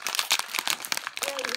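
A short crinkling and tearing of a plastic wrapper being peeled off a Kidrobot Yummy World toy snack, close and crisp, with voices talking alongside.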